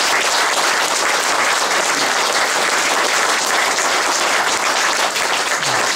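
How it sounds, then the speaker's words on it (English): Sustained, dense applause from a gathered crowd at a celebration-of-life memorial, loud and steady throughout with no break. "applause."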